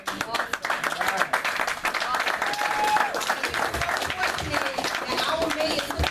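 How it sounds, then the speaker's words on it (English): Crowd applauding at a mayor's community meeting, a steady wash of clapping that fills the room for several seconds, with voices and cheers mixed in underneath. "Give yourself a round of applause."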